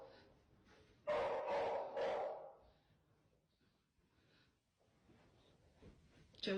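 A dog named Josie barks in a short burst of several sharp, close barks, then falls quiet, with a few faint yips and snorts later.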